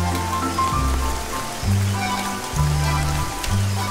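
Heavy rain hisses steadily in the background while a loud, low rhythmic musical score pulses on top, the rainfall staying continuous and close.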